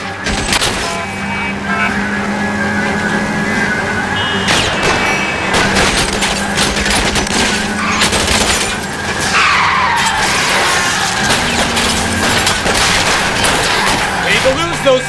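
A car speeds through a chase in the video game L.A. Noire, with an engine roaring, tyres skidding and bursts of gunfire, all loud and continuous under the characters' shouted dialogue.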